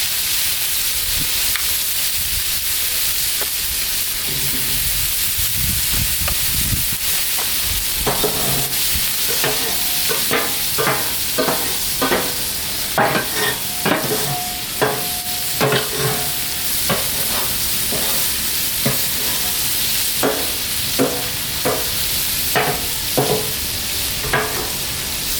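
Two pints of tomatoes sizzle in butter on a Blackstone flat-top griddle: a constant loud frying hiss throughout, broken by repeated scraping and stirring strokes from a utensil on the hot steel.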